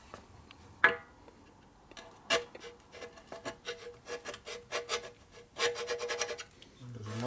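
Wood-handled scraper scraping a part of a 1941 74ci Knucklehead motorcycle engine: a sharp knock, then a run of short dry rasping strokes in irregular rhythm, close and moderately loud.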